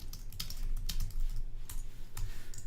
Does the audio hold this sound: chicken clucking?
no